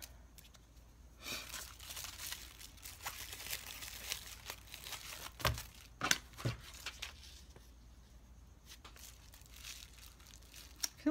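Bubble wrap being cut with a pair of dull scissors, producing quiet, steady crinkling and crackling with a few sharper snips and pops, close by and faint.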